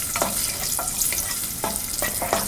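Cashews and raisins fry in a pan with a steady sizzle, broken by several soft scraping stirs spaced unevenly over a few seconds, heard close with no talking.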